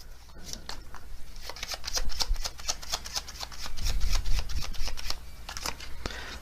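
Oracle cards are shuffled by hand close up, a quick run of crisp riffling flicks and soft papery slaps repeating steadily for several seconds without talk.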